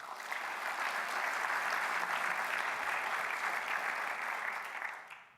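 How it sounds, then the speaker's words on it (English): An audience applauds a judge at a 2017 business plan competition, a steady wash of clapping that swells quickly, holds evenly for about five seconds, then fades at the end. "Let's give a round of applause for Dwayne."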